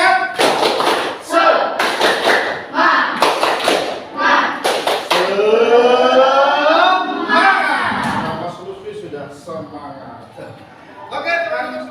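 A group of teachers in training does rhythmic tepuk semangat spirit clapping, sharp patterned bursts of hand claps and taps in the opening seconds, then a leader speaks and the group chants and answers together.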